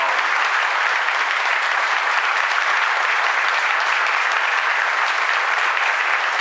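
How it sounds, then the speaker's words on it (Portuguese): A church congregation gives a round of applause in honour of Saint Paul the Apostle, steady, dense hand clapping that holds at an even level throughout with no voices. "Uma salva de palmas a São Paulo"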